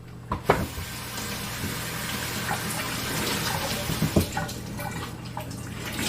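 Running tap water rinses a utensil in a home kitchen while cinnamon rolls are being made, a steady soft wash broken by a few clinks and splashes, with no talking.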